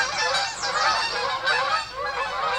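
A flock of geese honks loudly and continuously outdoors on a rural homestead, many overlapping calls close by with no talking.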